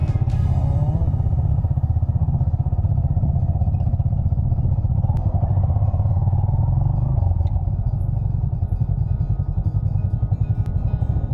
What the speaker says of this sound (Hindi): हम लोग कैसे कैसे बाइक चला रहे हैं, पूरा फिसल रहा है